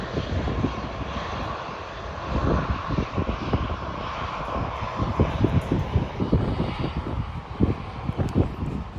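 A jet aircraft takes off from the runway at Manchester Airport, its engine roar a steady, fairly loud broadband rumble that holds throughout with gusty wind buffeting the microphone.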